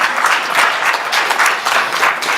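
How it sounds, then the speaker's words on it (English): Graduation audience applause, a full, loud burst of clapping from a large group that is sustained evenly across the moment. "I think this group deserves a round of applause even as they come up"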